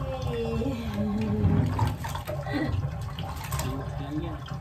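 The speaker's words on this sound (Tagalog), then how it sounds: "Magbabanlaw na ikaw." Water pours and splashes steadily as a baby is rinsed in a bath, close and fairly soft, with voices talking over it.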